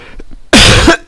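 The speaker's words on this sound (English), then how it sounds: "Excuse my coughing this morning." A single harsh, loud cough burst from a person close by on a cold morning, preceded by faint breathing and followed by quiet.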